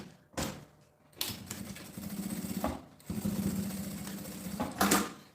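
Sewing machine stitching fabric with a machine foot, running in bursts of rapid mechanical whirring, close and clear, with brief pauses and handling noises between runs.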